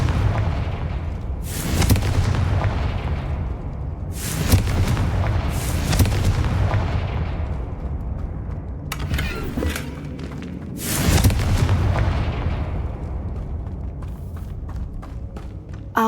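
Confringo spell blasts in the video game Hogwarts Legacy: several heavy booming explosions a few seconds apart over a constant loud rumbling game background, no speech.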